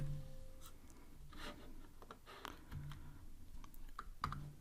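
Light, irregular keystrokes on a computer keyboard while entering Python code, soft clicks scattered in a quiet room.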